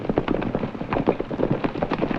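Gunfire erupts in an ambush in a Western TV episode: a dense, rapid volley of sharp cracking shots, loud and continuous with no voices.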